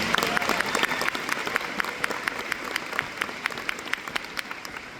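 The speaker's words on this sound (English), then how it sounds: "Give yourself a round of applause" Graduates at a commencement ceremony give a sustained round of applause, with dense clapping and a few sharp, distinct claps standing out near the front.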